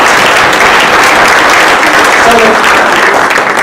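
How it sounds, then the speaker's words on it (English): Audience at a campus panel event applauding, a dense continuous wash of clapping filling the room, loud and sustained, with a brief spoken word near the end. "let's another round of applause"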